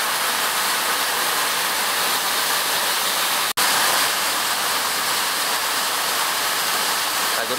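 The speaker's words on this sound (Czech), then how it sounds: "A voda se tu řítí ze všech stran." Water thunders through a gorge on Madeira, a loud, uniform torrent of rushing noise heard up close, interrupted only by a split-second cut midway.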